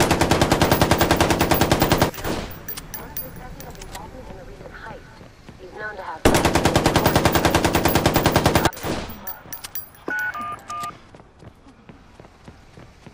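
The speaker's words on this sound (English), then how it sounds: "Help, there's gunfire." Automatic gunfire from the Watch Dogs video game during a five-star police chase: two long, loud bursts of rapid shots separated by a quieter stretch of scattered sounds and brief voices.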